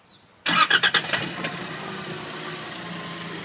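A Mitsubishi 4WD's engine is started with the key during a hill stall at a 4x4 park. Several quick, loud cranking beats come first, and then the engine catches and settles into a steady idle.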